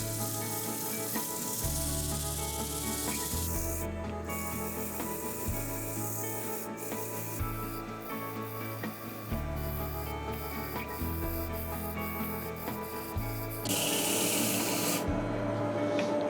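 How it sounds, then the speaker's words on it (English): Abrasive paper rasps against a wooden bowl spinning on a lathe, in steady rubbing passes broken by brief pauses, close and moderately loud. "so we're ready to sand now"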